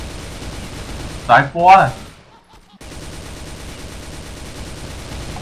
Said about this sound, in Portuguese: Só tá eu atirando, cara.